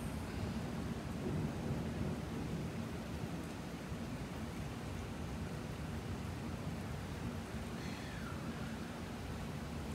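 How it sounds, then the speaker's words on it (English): A night thunderstorm during a heatwave, heard from a balcony: steady rain and a continuous low rumble of thunder fill the whole stretch at moderate distance, with no voices. "That was thunder."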